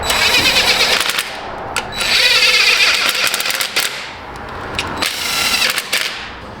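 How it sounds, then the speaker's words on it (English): An air impact gun rattles in loud, rapid clicking bursts on the A/C compressor bolts of a 1998 GMC Sonoma, close by, with a brief pause between bursts. "That's a clickety clack gun."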